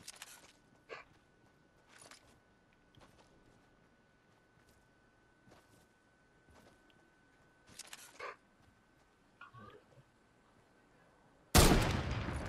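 Sniper rifle shots ring out in a video game, several sharp separate cracks spread across a quiet stretch, followed by a loud burst of noise at the end.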